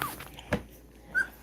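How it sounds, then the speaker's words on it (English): Puppies whimper softly in a quiet room, giving two or three brief, high whines separated by near silence. "Puppies."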